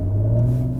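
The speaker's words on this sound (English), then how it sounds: "First is silver waves. Now, as I turn this on, it will change the sound of the engine when I accelerate" A 2022 Mercedes-Benz EQS electric luxury car playing its Silver Waves synthetic drive sound while accelerating, a steady deep droning hum with layered tones, loud and close, very brief.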